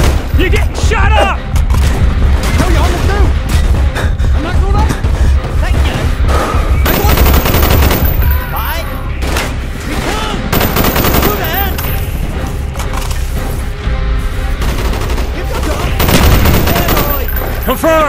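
Dense gunfire in the Call of Duty: Black Ops campaign mission The Defector: continuous loud rifle and machine-gun bursts with booming impacts, while combat voices shout over the battle.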